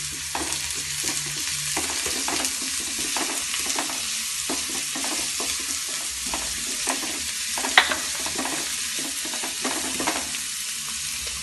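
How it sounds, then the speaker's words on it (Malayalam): Fish roe thoran being sautéed and stirred in a pan, with a steady close sizzle of frying and repeated scraping stir strokes at an irregular rhythm, plus one sharper clink near the end. "ഇനി നമുക്കത് നല്ലപോലെ വഴറ്റി കൊടുക്കാം."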